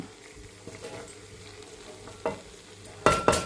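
A spoon stirs a curry of drumstick leaves and soaked toor dal in a pan, making a soft, continuous scraping and faint sizzle, with a sharper clatter near the end.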